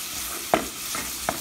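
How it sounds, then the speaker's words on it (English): Garlic frying in a pan gives a steady soft hiss with a fine sizzle, broken by two brief stirring scrapes close by. "There's lots of gobs of like garlic, and it's simmering."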